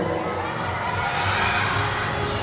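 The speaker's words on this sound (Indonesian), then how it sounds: "berikan tepuk tangan kepada juara yang kedua" A large crowd at a university English drama competition closing ceremony cheers and claps loudly and continuously for the second-place winner, with shouts mixed into a dense wall of noise.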